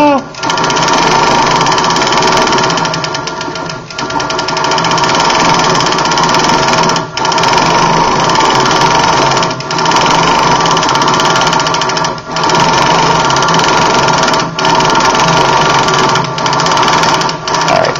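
A Prodigy sewing machine stitches silk at a steady, continuous whir, running near and loud for the whole stretch, with brief dips in pace where the stitching slows or pauses.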